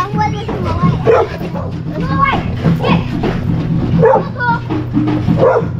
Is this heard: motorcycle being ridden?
no